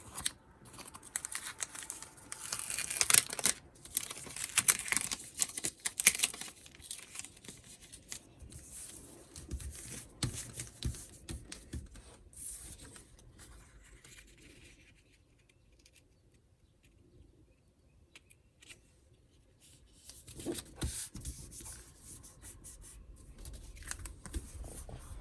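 Scissors trimming cellophane for a craft tag, repeated crisp snips and crinkling plastic rustles up close, busy at first, quieter in the middle, then resuming, with no talk.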